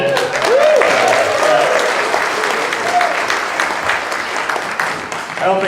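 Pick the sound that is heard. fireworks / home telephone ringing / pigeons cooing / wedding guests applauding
wedding guests applauding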